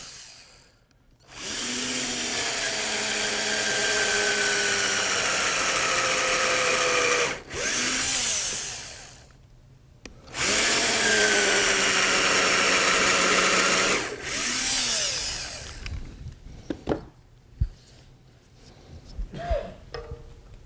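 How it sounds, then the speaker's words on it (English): A handheld power drill bores into scrap wood in two long, loud runs of steady whine, each several seconds, separated by a brief pause and followed by quieter handling clicks and taps. "Get my handy dandy drill here again."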